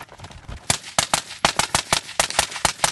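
Rapid pistol gunshots in a shooting drill, a dense string of sharp close cracks fired in quick bursts with brief gaps, loud and without talk.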